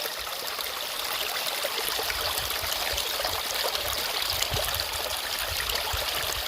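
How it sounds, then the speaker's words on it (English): Water runs steadily through a gold sluice box outdoors, a continuous close rushing and gurgling flow with a fine splashy texture and no talking. "Sluice seems to be running really well today."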